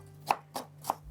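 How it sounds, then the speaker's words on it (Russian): A knife chops through an onion three times, each crisp cut evenly spaced and fairly quiet in a still kitchen, with no talking. "Лук можно резать произвольно, так как все равно потом все будем измельчать."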